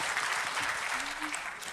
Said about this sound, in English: Let's clap for Nathan.